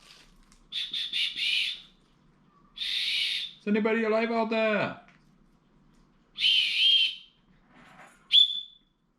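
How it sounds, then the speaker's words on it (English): A shrill survival whistle from an 18-in-1 survival kit is blown in several short loud blasts, separated by pauses, with someone speaking briefly between them. "This looks like the whistle"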